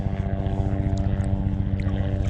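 A helicopter flies overhead above a creek where trout lines are set for catfish, its rotor throbbing in a steady, loud, rapid beat with a deep engine hum and no talking.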